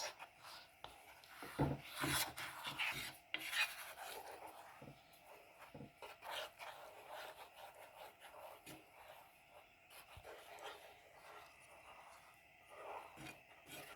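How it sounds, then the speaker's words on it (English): Halwa with raisins and milk is stirred in a pan, making soft, irregular scraping and rubbing strokes of a spoon against the pan's surface, quiet and close throughout. "And keep on stirring this."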